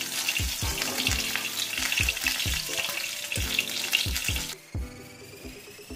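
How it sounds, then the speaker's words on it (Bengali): Pieces of rohu fish fry in hot oil with a steady, dense sizzle, broken by repeated low thumps and knocks from a pan or utensil, all close and fairly loud; the sizzle dulls near the end. "আর 2 পিস আছে সেটা ভেজে নিয়ে ফিরে আসছি"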